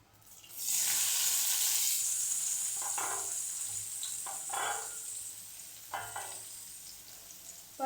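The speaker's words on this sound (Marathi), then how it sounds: "पण होतं असं तेलात ना थोडंसं लालसर करून घ्यायचं त्याला" Bitter gourd (karela) pieces fry in hot oil with a loud, steady sizzle that starts abruptly and holds throughout, broken by a few brief stirring scrapes and bursts.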